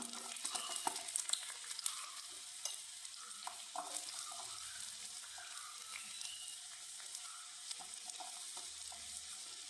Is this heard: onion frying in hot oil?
yes